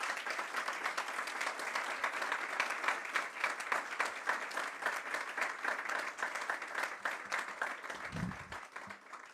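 Sustained applause from a conference audience for the Casa de México team at the inaugural lecture of the Blaisten Collection on modern Mexican art, dense steady clapping throughout, easing slightly near the end.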